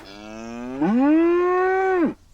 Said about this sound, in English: But the cows hadn't gone back to their field. They were still mooing and chewing all over the tracks.